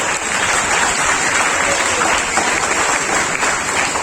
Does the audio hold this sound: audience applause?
yes